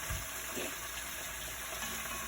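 Water pours from a kettle in a steady, continuous stream, a soft splashing gush filling a vessel close by while making chicken curry.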